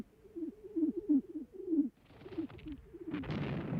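Carrier pigeons held in a mobile pigeon loft during the Battle of the Somme coo in soft, repeated, rolling phrases. Rough, noisy bursts like distant gunfire or artillery rumble in the background toward the end.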